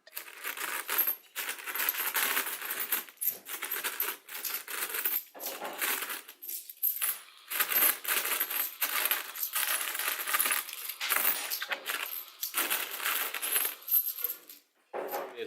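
Collected coins from a seven-year savings jar being sorted and counted by hand, with continuous close metallic clinking and jingling in dense bursts and brief pauses throughout, no talking.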